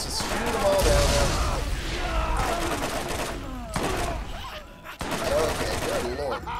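Rapid gunfire from multiple weapons while shooting enemies in Borderlands, loud and sustained bursts with explosive booms and a dense continuous battle din throughout.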